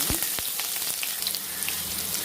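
Finely chopped large onion frying in hot oil for a Tamil garlic curry, giving a steady close sizzle and crackle with small pops throughout.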